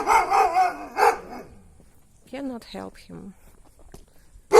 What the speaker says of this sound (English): Oh, doggy noticed me.